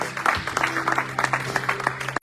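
A church congregation applauds the Lord at an Easter service, a steady patter of clapping with shouts and a voice calling out over it, ending in a sharp clap.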